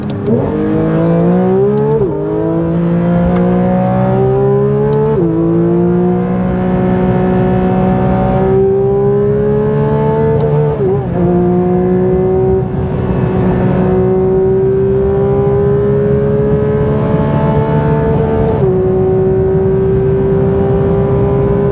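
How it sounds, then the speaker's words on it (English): A fast, high-end car accelerates hard at high speed. The loud engine climbs through repeated gear shifts, with rising whines that dip at each change before settling into a sustained high-pitched drone, and no talking. "It is a very, very stable, very fast car, very stable at high speed."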